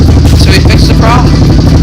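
An ATV engine chugs loudly at close range in an uneven idle after an exhaust leak repair, with a voice speaking briefly over the running motor.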